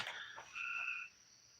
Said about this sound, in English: These two fucking frogs having a goddamn discussion here.